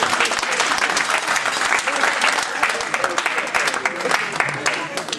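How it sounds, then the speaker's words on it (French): An audience at an evening worship gathering in Paris bursts into sustained, dense applause with cheering voices mixed through the clapping. "On acclame le Seigneur pour l'encourager"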